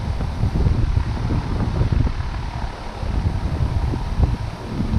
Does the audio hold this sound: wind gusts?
yes